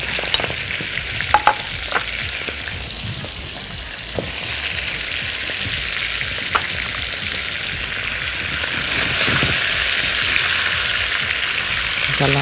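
Chicken pieces sizzle and crackle in hot oil in a pan, browned on both sides for chicken with caramelized onions and cardamom rice, a steady loud frying hiss with occasional clinks of stirring.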